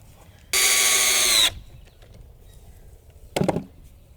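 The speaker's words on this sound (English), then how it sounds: "I'm going to drill some pilot holes and screw this in." A power drill bores pilot holes into a wooden plant stand in one loud, steady burst of about a second, followed later by a shorter rough buzz.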